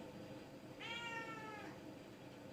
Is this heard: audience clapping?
no